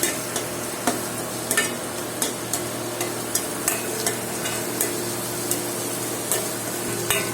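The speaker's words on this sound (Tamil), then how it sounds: "கட் பண்ணி வச்சுருந்த வெங்காயத்தையும் அப்படியே கூடவே போட்டுக்கணும். அதை அப்படியே ஃபுல்லாக நல்லா வதக்கிக்கணும்." Chopped onions sauté in a pan with a steady close sizzle, punctuated by regular sharp clicks of a spoon stirring against the metal, with no one talking.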